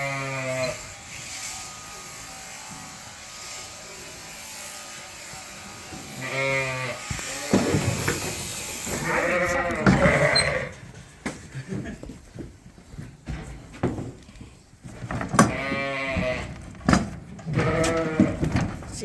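Sheep bleat repeatedly on a sheep farm, several loud, wavering calls from close by, mixed with the buzz of electric shears and occasional voices talking.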